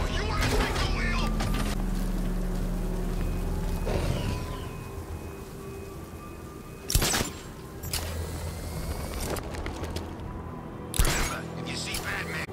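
Heavy rumbling engine of the Batmobile in tank mode driving in Batman: Arkham Knight, a steady low drone with a few sharp impacts, under game chatter.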